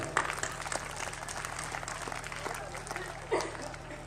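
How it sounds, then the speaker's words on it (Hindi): A school audience claps for the principal at a Hindi-language gathering, a fairly faint, steady patter of applause over a low hum, with a couple of louder bursts. "एक बार प्राचार्य महोदय के उत्साह के लिए जोरदार तालियां बजाएं।"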